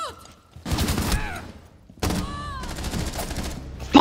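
Gunfire in the video game Rainbow Six Siege comes in two loud, close bursts of rapid automatic shots, each followed by ringing echoes and a short pause, with excited voices talking.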